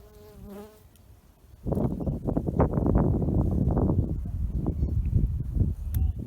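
Australian stingless bees buzz around their hive in a dense, close swarm, a loud continuous hum with rising and falling individual wingbeats and some handling noise, starting abruptly after a quiet opening.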